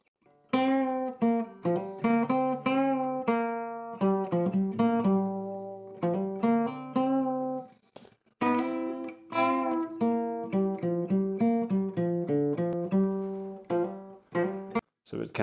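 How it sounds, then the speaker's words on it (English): An instrumental solo for a country song runs for about fifteen seconds, with a steady string of clear melodic notes, close and fairly loud, a short break near the middle, and no talking over it. "So I'm going to try and play you that solo just now."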